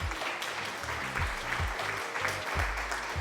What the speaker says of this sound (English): thank you for playing the applause sound effect